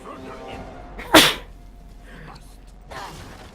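One sudden, loud sneeze bursts out close to the microphone amid quiet background sounds, followed by a softer breathy noise near the end.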